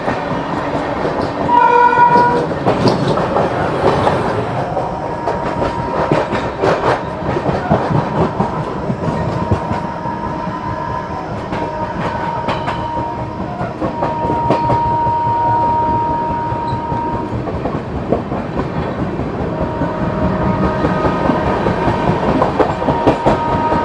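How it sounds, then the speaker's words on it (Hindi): The Kacheguda–Bhagat Ki Kothi Express thunders past at close range while overtaking, with a loud, continuous rumble and rhythmic clatter of wheels over rail joints and a brief horn early on. "ओवरटेकिंग कच्चीगुड़ा भगत की कोठी एक्सप्रेस"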